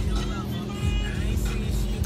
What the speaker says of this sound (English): We're in the car wash.